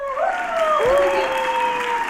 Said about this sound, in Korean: 큰 박수 맞이주세요